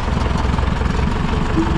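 An old tractor engine idles nearby with a steady, rough low rumble and vibration that stays constant throughout.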